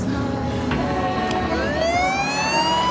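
A car siren switches on partway through and climbs into a rising wail, loud and close over a busy, noisy background.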